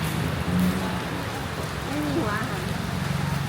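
Steady rain falling outdoors, a soft continuous hiss of drops on surfaces lasting a few seconds, with a brief voice and faint background noise mixed in.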